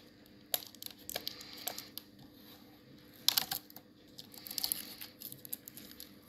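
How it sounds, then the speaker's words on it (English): Tape is pulled off the packaging of a renewed Logitech M331 mouse, giving close, quiet bursts of peeling, crinkling and rustling with pauses between them. "you have to remove the tape here"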